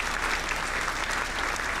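Steady applause from a crowd with clapping and cheering, heard alone at a moderate level during a stream of the game Ori and the Will of the Wisps on Xbox Series X.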